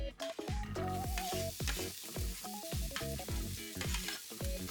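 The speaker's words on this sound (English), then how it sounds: "once the pan is heated, I add the onion" Onion frying in oil in a heated pan, a soft crackling sizzle with a series of rhythmic knocks and scrapes and faint tonal ringing over it, quiet and close.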